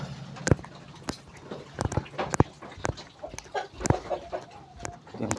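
Chickens clucking nearby on a small farm, irregular bursts of short clucks and a few sharper calls overlapping, with some faint background knocks between them.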